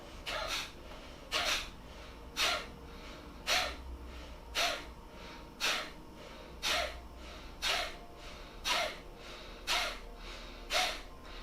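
Forceful nasal exhales from a yoga breathing exercise, like blowing the nose, repeated steadily about once a second in a long even series, fairly quiet and close, with no talking.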